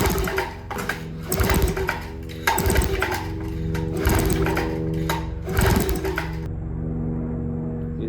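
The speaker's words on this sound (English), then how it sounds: "I'm going to crank this over 5 or 6 times, just until the PSI evens out." An outboard engine is cranked over repeatedly during a compression test, a steady rhythmic churning broken by four or five loud surges of cranking, close and alone before falling to a quieter hum.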